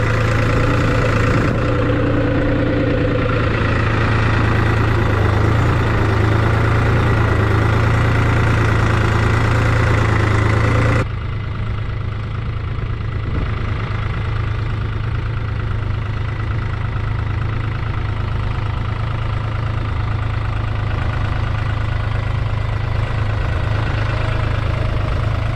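A tractor with a tiller hooked up idles close by in a steady, heavy drone with a low hum, and the tone shifts and drops in loudness partway through as the engine settles.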